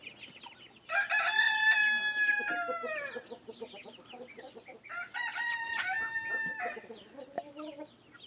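A young rooster among backyard chickens crows twice, two long drawn-out calls close by, with softer clucking from the flock in the pauses between.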